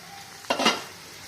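Raw banana (aratikaya) pieces frying in a pan, a quiet sizzle with one brief scraping stir of a spatula, close by and without talk.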